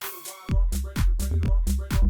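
A punchy tech house groove made in FL Studio, with deep, boomy bass thumps on each beat and bright percussive hits, sounding muddy and unfiltered with no EQ.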